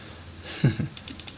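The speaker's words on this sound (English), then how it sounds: "this is what I was typing." A few quick keystrokes on a computer keyboard, soft clicks close by in a short burst with brief pauses between them.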